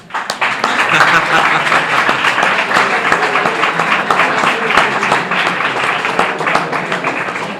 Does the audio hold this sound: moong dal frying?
no